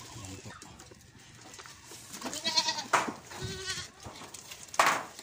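Native chickens are let out of their pen, producing a burst of clucking, squawking and bleat-like animal calls that rise and fall close by.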